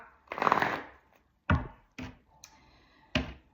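A deck of tarot-style cards being shuffled and then cut, a riffling rush followed by three or four sharp close taps and thumps of the deck on a table, with no talking.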